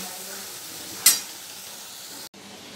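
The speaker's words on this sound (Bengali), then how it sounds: "এবার একটু জল দিয়ে ভেজে নেব" Spices with salt, turmeric and mustard paste frying with a splash of water, a steady low sizzle broken by one sharp hiss burst and a brief click near the end.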